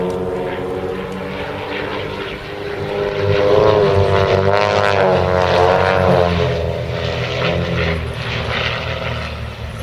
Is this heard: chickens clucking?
no